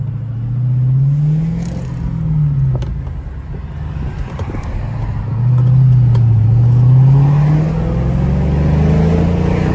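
Engine of a Dodge Charger Scat Pack revving from inside the car, a loud deep growl that rises and falls in several throttle blips over a steady rumble, with a stronger pull toward the end.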